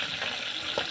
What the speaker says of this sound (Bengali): তো মাছ ভাজা হচ্ছে